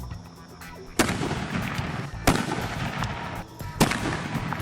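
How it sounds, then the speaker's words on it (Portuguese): Three separate arquebus shots from an old single-shot black-powder firearm, each a sharp loud crack with a brief decaying tail, spaced about a second or more apart over light background noise. "Arcabuz é uma arma antiga de um tiro só, aquela história de pólvora, chuchadinha, uma brasa e o disparo."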